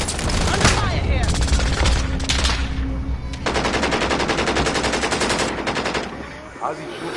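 Sustained machine gun bursts in Call of Duty Warzone, rapid rattling rounds in several long strings separated by short pauses, loud and close, with a brief thump near the end.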